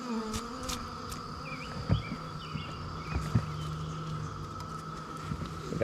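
Honey bees hum around an opened hive, a low, continuous buzz with a few faint passing whines and soft knocks, and no voices.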